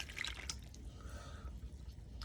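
Half water, half cream mixture poured into a bowl of eggs, a soft, faint trickle and drip of liquid lasting a couple of seconds with light clinks, no voices.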